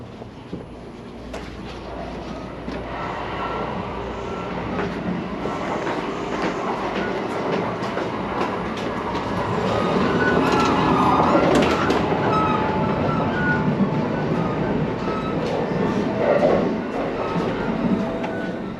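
Heard from on board, the Kintetsu Shimakaze limited express runs on in Japan with a steady rumble, rhythmic clickety-clack from the wheels and a swell in loudness partway through, with no talk.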